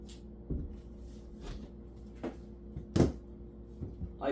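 A flat-pack kitchen cabinet door being set in place during dry assembly, giving several light wooden knocks and clacks spaced out over a few seconds, close by with a quiet room hum underneath.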